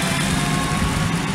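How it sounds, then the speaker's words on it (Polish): A tractor engine runs nearby outdoors with a steady, low rumbling drone that holds at an even level throughout, with no talk over it. "Bo mi tutaj przeszkadza ten ciągnik."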